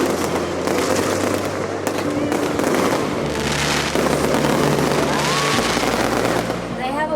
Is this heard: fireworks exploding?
yes